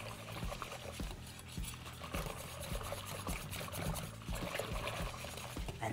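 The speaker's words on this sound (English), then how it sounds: "And we're just going to keep whisking this in." Steady whisking of a ginger spice mixture into milk for a gingersnap cream pie filling: continuous liquid sloshing and rhythmic whisk strokes against the bowl, close and even throughout, with no speech.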